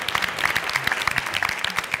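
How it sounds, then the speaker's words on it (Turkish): Studio audience applause on a Turkish family game show, steady clapping from a crowd lasting a couple of seconds, loud and close with no talk over it. "Şener Şen ustaya da buradan kocaman bir alkış gönderelim"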